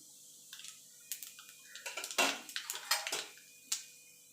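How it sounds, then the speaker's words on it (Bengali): Nigella seeds temper in hot oil with a quick cluster of close, crisp pops and crackles that peak in a brief flurry midway. The clip is short and has no voices. "ফোড়নে দিয়ে দেবো কালো জিরে"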